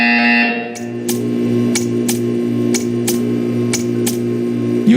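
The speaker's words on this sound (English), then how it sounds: "You will hear a buzzer. When you hear the buzzer, stare at the art." In the video game Portal 2, a buzzer rings in a series of sharp, evenly spaced electronic bursts over a steady low hum, following a brief fading tone at the start.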